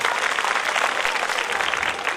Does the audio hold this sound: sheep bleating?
no